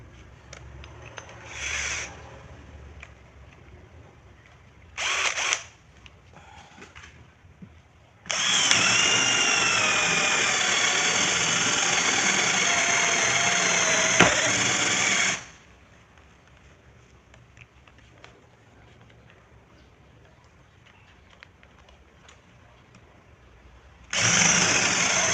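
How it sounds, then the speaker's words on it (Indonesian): A HiLDA battery drill with a 19 mm spade bit gives a few short whirring bursts, then one long sustained run of about seven seconds, and later starts again, amid quiet room noise. "kita coba untuk mata bor kipas dengan yang 19 mili dulu ya"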